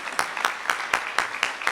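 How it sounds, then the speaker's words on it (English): A panel audience claps after the panelists speak, a short burst of about seven distinct, evenly spaced claps, moderately loud and heard alone. "I was going to ask for a women's fun round of applause, but no need to ask"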